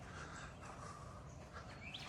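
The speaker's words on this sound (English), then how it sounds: "Listen to the birds." Birds chirp faintly at Wakulla Springs, a few soft high tweets scattered over a quiet outdoor background.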